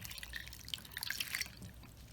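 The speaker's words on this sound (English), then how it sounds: "you're going to pour in 1 cup of water" A cup of water poured into a saucepan holding beets, a faint, close trickle with scattered drips and splashes that swell briefly in the middle and then taper off.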